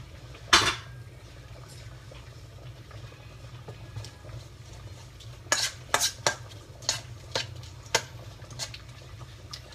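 Onions with salt and lime juice are tossed in a bowl, giving a sharp clink early on and then a run of light utensil knocks and taps against the bowl a few seconds later, against quiet background hum.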